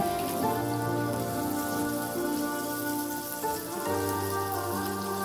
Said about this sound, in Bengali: আপনারা দেখতে পাচ্ছেন আমি পেঁয়াজটা ভেজে নিচ্ছি